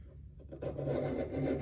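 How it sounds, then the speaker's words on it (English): A close, gritty scraping of a reed knife against a sharpening stone, starting faintly and then growing into a steady rasping rub with no talk. "even more aggressive sound than just when we're sharpening the knife"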